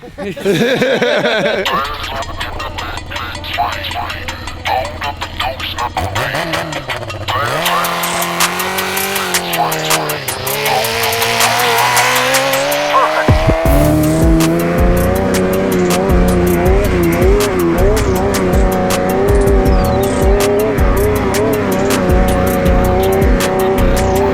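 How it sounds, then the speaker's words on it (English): A crotch-rocket-style snow bike climbs a big snowy hill in second gear, its engine screaming hard and holding near the rev limiter in a long, loud, close pull, with voices heard near the start. "I think this is gonna be a good old-fashioned second gear rev limiter pull."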